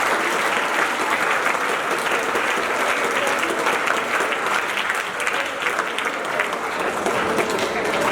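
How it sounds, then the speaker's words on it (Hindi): Students at a Navodaya Vidyalaya school event in Jaipur clap loudly for themselves, a dense, sustained round of applause from a large crowd that holds steady throughout. "बच्चों अपने स्वयं के लिए एक बार जोरदार से ताली बजाएं"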